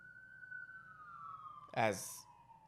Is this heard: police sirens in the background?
yes